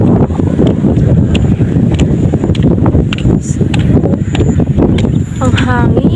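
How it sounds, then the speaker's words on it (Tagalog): Strong wind buffets the microphone in a loud, steady roar beside a riprap flood embankment, with people talking under the gusts. "Ang hangin."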